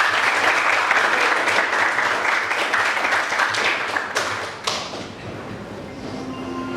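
Sustained applause from a class of university students in an Islamic religious education lesson, dense clapping filling the room for several seconds before thinning and fading near the end.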